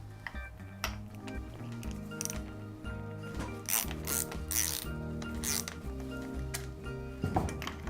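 A ratchet with a 24 mm socket works on a mountain bike suspension fork, giving a close, steady run of rapid clicking strokes with brief pauses and a few metallic clinks.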